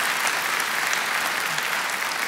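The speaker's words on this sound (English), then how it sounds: "Give yourselves a round of applause." Steady, dense applause from a large crowd at a community college commencement, continuous clapping throughout without any speech.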